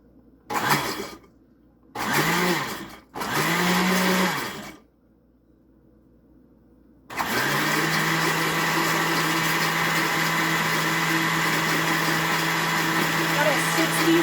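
A few short voiced bursts, then after a pause a blender starts and runs steadily with a loud, continuous whirring roar that fills the rest, blending a balsamic vinaigrette.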